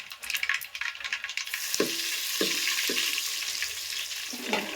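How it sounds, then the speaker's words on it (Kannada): Cumin and mustard seeds spluttering in hot oil in a home kitchen, a dense crackling sizzle with sharp pops and occasional stirring scrapes, close and continuous with no voices. "ಈಗ ನೋಡ್ರಿ ಜೀರಿಗೆ ಸಾಸಿವೆ ಚಟಾಪಟ ಅಂತ ಸಿಡಿಕತ್ತವ್ರಿ"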